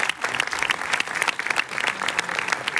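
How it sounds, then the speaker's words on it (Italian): Dense, steady applause from an audience at an Italian film presentation, a continuous patter of many hands clapping at moderate distance with no pauses. "un grande applauso"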